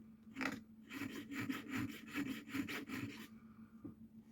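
A rusty old blade is sharpened by hand, with about a dozen rhythmic, close-up rasping strokes followed by a brief pause.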